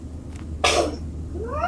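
A single short, sharp sneeze bursts out close to the microphone and is over in a moment, with faint background hum around it.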